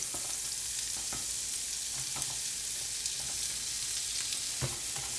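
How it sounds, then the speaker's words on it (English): Onions frying in butter over high heat in a pan, a steady close hiss and crackle with scattered sharper pops and occasional stirring clicks, no voices. "Stick in some more butter. And just fry my onions for a bit."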